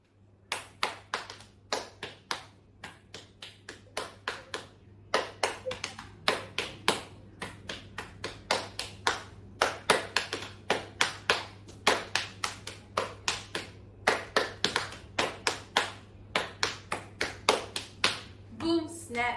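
Body percussion of finger snaps and hand claps, performed as a talent-show act: a long, steady rhythmic pattern of crisp, close snaps and claps repeating evenly against quiet background hum.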